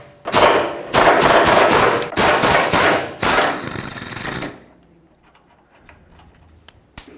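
An air impact wrench zips off two 15mm sway bar nuts under a 2009-2014 Ford F-150 in loud, close bursts of rattling hammering, several short pulses in a row, then quiet garage ambience.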